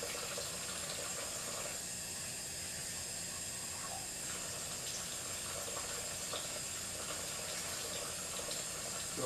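Water runs steadily from a kitchen filter into a measuring cup, a continuous close hiss and trickle with no break, set against faint kitchen room noise.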